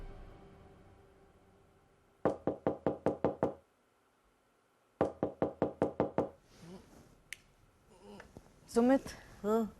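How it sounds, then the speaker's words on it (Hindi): Two crisp bursts of about six knocks each on a door, close and sharp with brief gaps, followed by soft indoor voices of people talking. "आलिया नॉक कर रही है"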